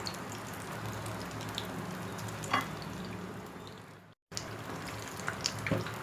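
Egg pakoras deep-fry in hot oil with a steady, close sizzle and faint pops, broken by a brief silent cut before the frying resumes, with no talking.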